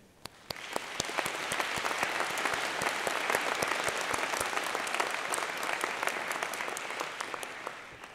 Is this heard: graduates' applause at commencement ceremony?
yes